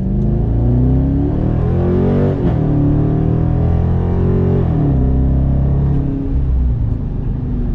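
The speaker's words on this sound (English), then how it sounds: "Let's do a little acceleration." A 2019 Dodge Charger R/T accelerates, heard from the cabin as a loud, continuous engine rumble that climbs steadily in pitch, dips briefly at a gear change, then rises again.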